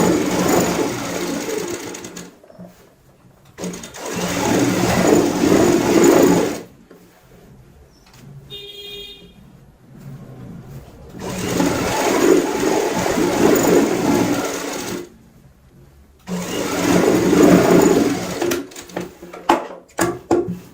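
Close, loud runs of a sewing machine doing straight stitching on a readymade gown during alteration: three long steady whirring bursts separated by quiet pauses, with a faint high tone in one gap.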